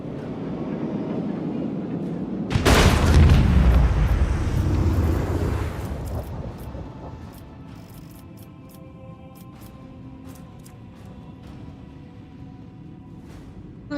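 Torpedo explosions in the Warhammer 40K game Rogue Trader: a sudden heavy blast that rumbles and fades over a few seconds, followed by a quieter rumbling bed with scattered faint clicks.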